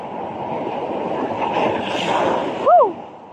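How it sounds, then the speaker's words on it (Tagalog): Ocean surf rolls in as a steady, loud wash of waves with wind rumbling across the microphone, ending with a short rising whoop. "Grabing alon."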